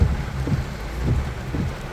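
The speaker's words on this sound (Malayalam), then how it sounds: "തകർത്ത മഴ പെയ്തുകൊണ്ടിരിക്കുകയാണ്" Heavy rain pounds a vehicle and is heard from inside the cabin: a dense, steady roar of drumming drops with a low rumble underneath, loud and unbroken, with no voices.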